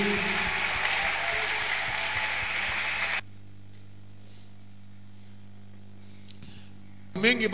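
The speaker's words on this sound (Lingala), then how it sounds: "Acclamons Jésus." Congregation applauding during a live church service, a dense steady clatter of clapping for about three seconds that cuts off abruptly, followed by quiet room tone and a brief burst of noise at the end.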